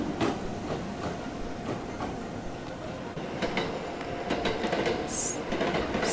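A two-car Kintetsu Nagoya Line train passes near a station, giving a steady, loud rumble of wheels and running gear that stays constant for the whole stretch, with a faint brief squeal near the end.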